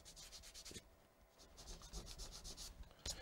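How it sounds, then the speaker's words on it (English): Paper being rubbed briskly to lift a lamppost out of a watercolour painting, a close, dry scrubbing heard in quick bursts with a short pause near the middle. "And rub that like that, and the lamppost should come off."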